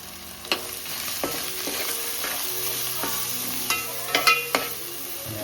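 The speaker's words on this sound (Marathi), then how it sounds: "मस्त परतून घेऊ." Crab stir-frying in a pan with turmeric, garam masala, coriander powder and homemade red Agri masala, a steady close sizzle with repeated scraping stirs and clacks of the spoon against the pan.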